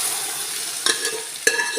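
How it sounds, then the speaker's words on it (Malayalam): Cooked red cowpeas and pumpkin being stirred in a frying pan for a Kerala curry: two distinct scraping strokes of a spoon over a soft, steady sizzle, close up and without voices. "നന്നായിട്ടൊന്ന് മിക്സ് ചെയ്ത് കൊടുക്കുക"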